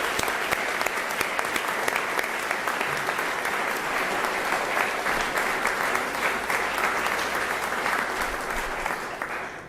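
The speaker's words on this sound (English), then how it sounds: "If we could just all give them a round of applause for this today." Sustained audience applause at a Louisville corporate technology announcement with the mayor, dense clapping from a large crowd lasting nearly ten seconds at steady loudness before tapering at the end.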